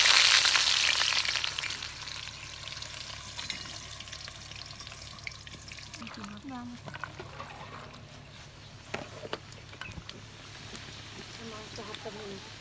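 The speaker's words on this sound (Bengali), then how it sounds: "এই যে এগুলো আলুগুলো দিয়ে দিচ্ছি, এগুলো বিরিয়ানিতে দেওয়ার জন্য" Potatoes frying in hot oil in a kadai for chicken biryani give a loud, bright sizzle at first that settles into a softer, steady crackle with occasional pops and stirring clinks.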